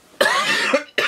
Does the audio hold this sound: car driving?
no